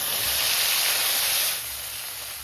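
Ground spice paste is dropped into hot mustard oil in a wok with nigella seeds and bay leaves, giving a loud, bright hissing sizzle that eases after a second and a half but keeps going.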